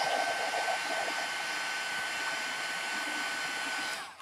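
A heat tool drying mixed media on a mini canvas gives a steady close airy whoosh that holds evenly for about four seconds before cutting off.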